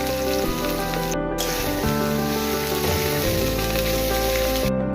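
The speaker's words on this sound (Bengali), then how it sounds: "সবগুলো সবজি আমরা সুন্দর করে ভেজে নেব।" Cauliflower, cabbage and carrot frying in a pan give a loud, dense, continuous sizzle close by, steady throughout with a slight stirring texture and no voices.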